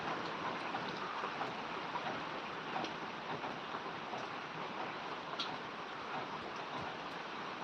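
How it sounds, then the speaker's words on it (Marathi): Steady heavy rain pours down during a monsoon downpour in Solapur, a dense, even hiss of falling water that runs unbroken throughout with scattered drip ticks and no voices. "हा आता सध्या पाऊस आहे"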